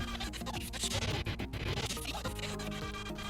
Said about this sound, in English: enable scrubbing so that when I scrub on the timeline,